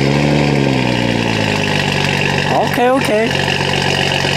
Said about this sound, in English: first startup with the downpipe catalyst